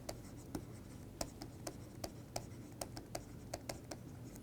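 Marker or chalk writing on a board during a lecture on hydrophobicity plots, faint scratchy strokes punctuated by crisp regular taps, quiet and close with no voices.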